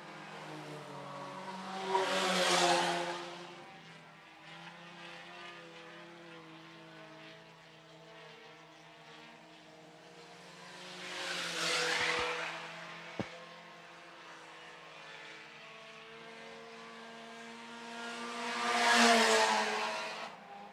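IMCA Sport Compact race cars roar past on the Phillips County Raceway track in three distinct waves, each engine drone swelling and fading as the cars go by at a distance.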